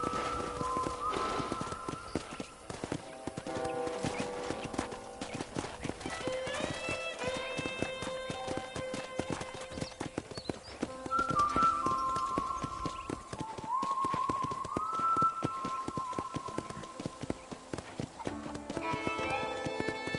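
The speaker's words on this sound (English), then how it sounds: "let's see if you can still ride a horse" Horse hooves clip-clop steadily in the video game Red Dead Redemption as a horse is ridden around a property, the rhythmic footfalls running throughout, mixed with a musical score and an occasional whinny.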